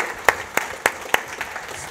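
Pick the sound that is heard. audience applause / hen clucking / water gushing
audience applause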